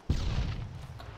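A single sharp, booming grenade blast in the ARMA III combat mission on Stratis, with a deep thump that decays over about a second.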